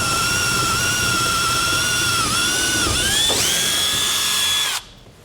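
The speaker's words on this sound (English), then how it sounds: "we're going to go ahead and drill out that hole." A power drill bores out a hole while fitting a side-door bar lock, its high motor whine holding steady with a couple of dips in pitch under load, close and loud, before cutting off abruptly.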